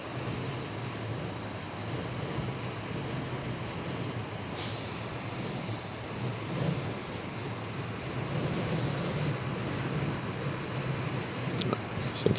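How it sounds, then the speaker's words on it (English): At a windy coast where container ships pass, a constant roar of strong wind buffets the microphone over the broad wash of sea waves. The noise is steady, rough and moderately loud throughout. "it's crazy windy."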